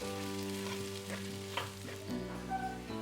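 Chopped onion, carrots and beans are stir-fried in a pan over a medium flame. A quiet, steady sizzle comes with occasional stirring scrapes over a constant tonal hum in the background, and no one speaks.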